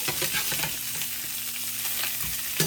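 Salmon fillets frying skin-down in a hot pan for crispy skin: a steady, bright sizzle with light crackles and a faint clink near the end.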